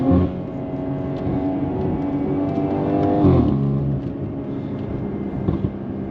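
A BMW G30 540i with a B58 engine, free-flow downpipes and Valvetronic exhaust rumbles loudly up close through downshifts, its note rising and dropping with throttle blips over several seconds.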